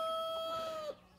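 Blue Brahma chickens with their head rooster, finishing his moult, in a poultry pen; a faint cluck and call sit under a steady high tonal whine, quiet and distant.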